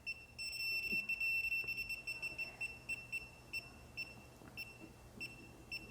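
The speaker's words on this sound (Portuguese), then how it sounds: "Agora eu vou lá no quadro, vou passando aqui o nosso testador." A Klein Tools ET310 circuit breaker finder beeps at an electrical panel in a steady train of short, high electronic pulses, close and fairly loud, with light handling noise underneath.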